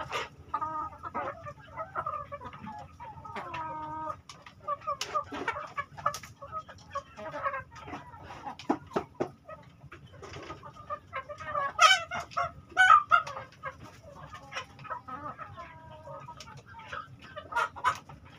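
Chickens cluck and squawk steadily at close range among free-ranging farm fowl, a young rooster among them, with busy overlapping calls and occasional sharper cries.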